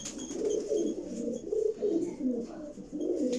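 A Sialkoti pigeon coos close up in repeated low, rolling phrases, steady and fairly loud with no talk over it.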